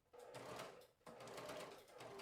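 Sewing machine running a long basting stitch to sew gathering threads along the top edge of a sleeve head, two steady whirring runs close up with a brief pause between, no talking.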